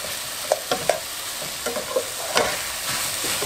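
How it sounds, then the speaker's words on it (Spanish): Garlic and onion sizzling in a pan while being stirred, a continuous close hiss broken by repeated scraping and tapping knocks of a spoon against the pan, no voices. "vamos a mover también el ajo con la cebolla"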